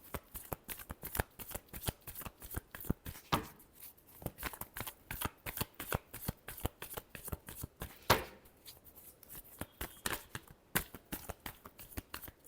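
Tarot cards are shuffled by hand in a long run of quick, crisp riffles and flutters, close and steady, with brief pauses between bursts.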